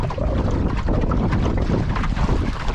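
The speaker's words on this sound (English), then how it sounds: "Gusts are coming a bit more frequently now." Strong wind gusts buffet the microphone in a steady roar aboard a sailboat on a lake, with hull and wave noise churning underneath throughout.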